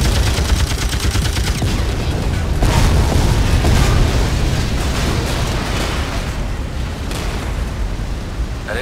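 Gas tanks explode in the game Bloodrayne 2, a long, loud, continuous barrage of booming blasts and crackling gunfire-like bursts that rolls on for several seconds.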